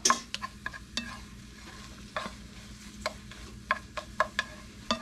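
Repeated sharp scrapes and taps of a utensil stirring food in a pan, an irregular rhythm of strokes over a soft, low sizzle, close and moderately quiet.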